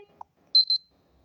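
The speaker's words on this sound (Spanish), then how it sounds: "ese es el sonido de Motorola Argon" Default alarm tone of a Motorola Argon phone: a short, quiet burst of high electronic beeps after a single soft chirp, heard alone in a silent room.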